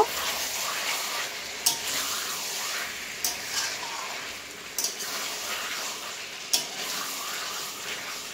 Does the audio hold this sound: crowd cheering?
no